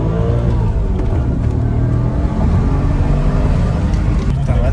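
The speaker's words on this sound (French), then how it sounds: "S'il y a personne qui arrête, j'essaie de faire un petit coup de première là." Audi S4 B6 with the 4.2 V8 accelerating hard in first gear, a loud, close, throaty engine roar climbing steadily in pitch for several seconds.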